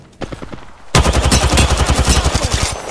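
Rapid automatic gunfire in a video game, a short burst after a near-silent opening followed by sustained rhythmic shots, loud and close.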